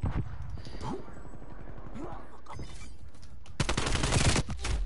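Gunfire in the video game Call of Duty Cold War comes as rapid bursts of automatic shots under someone talking, with a louder, denser volley near the end.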